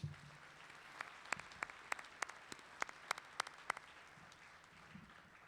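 Scattered applause from a college commencement audience at Jefferson College, heard as a faint, sparse series of distinct claps spaced out over several seconds in a large, quiet space.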